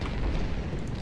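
A dense, continuous roar of booming cannon fire in the video game Ultimate General: Civil War, loud and close, filling the whole moment without any pause.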